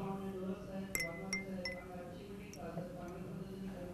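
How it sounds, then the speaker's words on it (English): Ice cubes dropped into glasses of salt water and pure water make a few bright clinks against the glass, with a steady background hum underneath. "Now put 1 ice cube each in salt water as well as pure water."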